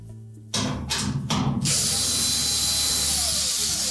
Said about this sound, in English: next we're going to remove the screws at the top of the hinge